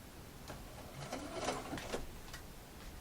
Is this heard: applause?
no